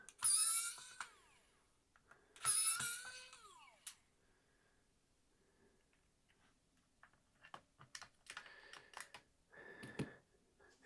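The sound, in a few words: unscrewing the two screws of a Nintendo Switch Joy-Con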